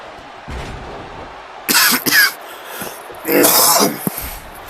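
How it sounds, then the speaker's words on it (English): A person close to the microphone coughs and clears the throat in two loud bursts, a quick double cough and then a longer rasping one, over faint background game commentary and noise. "sorry about all the coughing"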